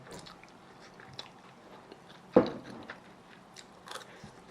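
Someone bites and chews a roti-like pastry with a cabbage filling, giving soft, close mouth sounds and one sharper crunchy bite partway through, fairly quiet.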